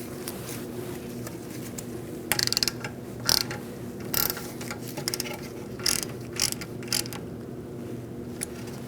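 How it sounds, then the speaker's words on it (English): A ratchet driver snugs a screw on the rear brake of a 2008-2014 Mercedes-Benz C300. Several short bursts of clicking come close by at irregular intervals over a steady low background hum. "Put in your screw and snug it up."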